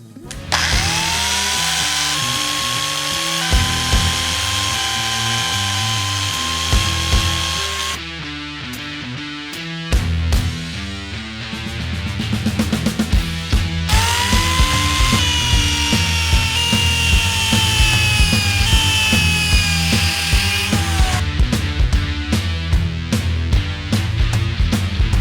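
Power drill boring a row of holes in a pipe for an aquaponics siphon, loud whining bursts that rise and drop with short gaps between holes, close up and with no talk.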